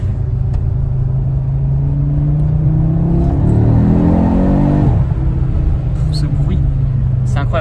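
An Audi RS3 five-cylinder engine revs loudly and continuously, its drone rising to a peak around the middle before settling, with a driver talking over it inside the car.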